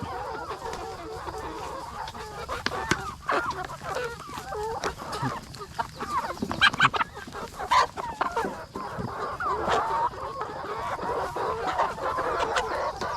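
A flock of chickens clucks continuously at a Lao farm during free-choice feeding, many hens calling over one another in a steady, close chorus with brief louder squawks and no talking.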